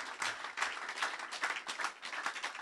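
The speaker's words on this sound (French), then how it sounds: "Vous pouvez l'applaudir bien fort." A short burst of steady audience applause for a Brussels artist at a live event, with dense, moderately loud clapping throughout.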